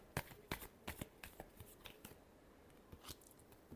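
Tarot cards are shuffled in a quick run of sharp, crisp riffling snaps, about a dozen irregular bursts close to the mic over a quiet background.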